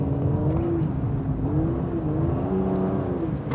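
Aston Martin DB11 turbo engine pulling hard with the throttle blipped, a continuous close, deep growl whose pitch swells and falls in repeated surges.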